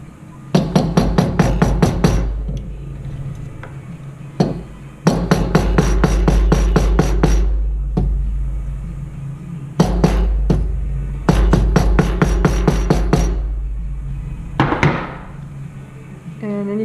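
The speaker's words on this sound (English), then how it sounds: "I'm just going to hammer this flat." A hammer flattens and work-hardens a loop of jewellery wire in several close, loud bursts of sharp metallic strikes, each run lasting a second or two, with quiet gaps between them.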